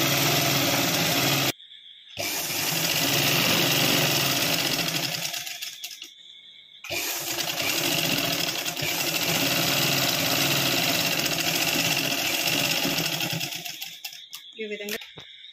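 An electric sewing machine runs in long continuous bursts as the main fabric piece and its lining are stitched, with two short pauses between runs, steady mechanical hum close by and mid-loud.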